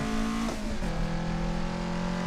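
Toyota AE86 engine held on light throttle during a touge mountain run, a steady droning note with a brief dip and shift midway, continuous and close, no talk.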